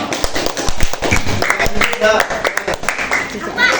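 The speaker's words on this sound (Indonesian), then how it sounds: "Tepuk tangan buat kelompok 2." A sixth-grade classroom claps for the second discussion group, a ragged burst of hand claps with voices talking over it throughout.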